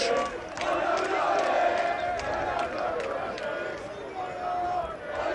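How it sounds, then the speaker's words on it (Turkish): Fenerbahçe supporters watching a team training session chant together for the club captain, a sustained sung crowd chant heard from some distance with a steady rise and fall and no other voices on top. "Kaptan Alex de Souza için tezahüratlar devam ediyor."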